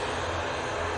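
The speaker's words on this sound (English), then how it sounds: "This is going off to Newquay now, using the ATR 72." Steady, close drone of ATR 72 turboprop airliner engines at Manchester Airport, a broad, even roar that holds without a break and with no voices over it.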